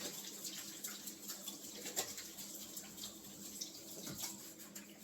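A kitchen tap runs steadily while hands are washed during cooking, with a faint, continuous splashing flow and small irregular splashes, quiet and close by.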